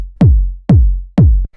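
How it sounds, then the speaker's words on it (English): Three booming, fat 909-style kick drum hits for tech house and disco house, evenly spaced and loud, each with a sharp click and a deep sustained low tail, with no voices. "just like your standard really fat tech house, disco house sort of 909 style kick."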